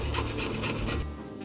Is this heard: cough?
no